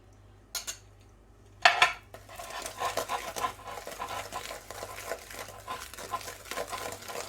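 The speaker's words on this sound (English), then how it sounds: "And then we beat in the egg a little at a time." Egg being beaten by hand into a cake mixture in a bowl, a couple of sharp clinks of utensil against the bowl, then a soft, steady wet scraping and stirring that stays close and quiet.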